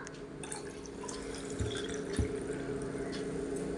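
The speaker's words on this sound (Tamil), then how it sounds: "இளநீர் வந்து அதில் நம்ம ஊற்றிக்கலாம்" Tender coconut water is poured into a glass for a cooling drink with soaked seeds, making a faint, quiet trickle with a few soft drips close by.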